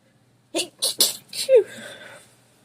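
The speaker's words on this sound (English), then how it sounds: "Now I feel like I'm going to sneeze." A single person sneezes sharply after a few quick breathy gasps, close and loud, then quiet.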